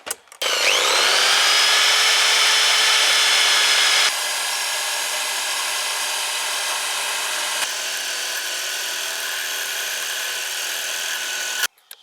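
A power drill with a long bit drills out a screw on a Porsche 944 steering wheel lock, a steady high-pitched whine for about eleven seconds, pitch shifting slightly partway through as the bit works, then stopping abruptly.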